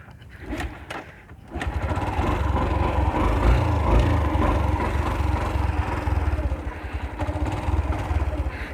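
A Yamaha YTX125 motorcycle engine cranks over briefly, then catches and settles into a loud, steady running idle close by, a continuous throbbing rumble that holds through to the end.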